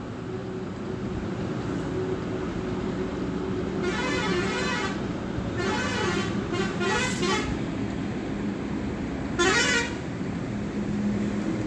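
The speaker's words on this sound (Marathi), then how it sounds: "गाड्यांचा आवाज पण खूप येतो घरामध्ये" Road traffic rumbles steadily from inside a house, with several car horn toots and honks cutting through at intervals, somewhat muffled and distant.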